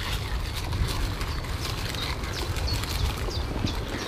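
Horses feeding near a walking person move about close by, making a dense, steady mix of hoof shuffling and clip-clop over outdoor background noise, with no talking.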